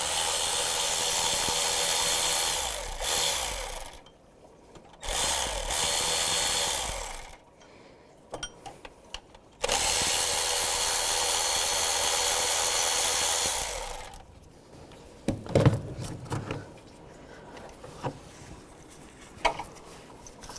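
Two 10mm bolts are removed from a hose adapter with a power tool, heard as several loud sustained whirring bursts broken by pauses, followed by quieter metallic clinks and handling noises.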